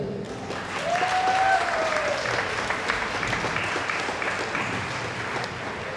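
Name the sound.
audience applause for the performers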